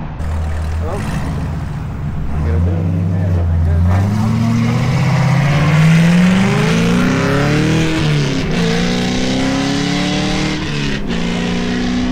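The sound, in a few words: Corvette C6 Z06 engine revving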